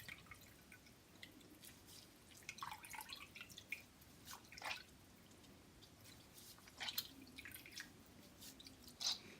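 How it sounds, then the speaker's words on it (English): Spiced rice drink strained a second time through a lace cloth, giving faint, scattered drips and small liquid trickles against quiet background hiss. "I'm straining it for the second time to get the most out of it"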